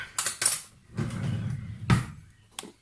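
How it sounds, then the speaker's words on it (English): A metal spoon clinks against a cup of coffee in a few bright taps, followed by a duller scraping stir and one more sharp knock, close and clear with no talk. "I'm going to get a spoon"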